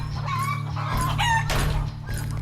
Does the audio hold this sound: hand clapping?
no